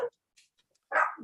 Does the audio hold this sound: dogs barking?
yes